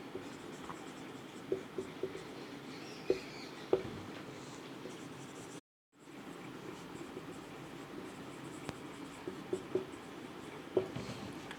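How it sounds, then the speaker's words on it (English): A pen writes out a chemistry definition on paper, soft steady scratching with occasional sharper taps in a quiet room, pausing briefly midway before continuing. "So let us write the definition."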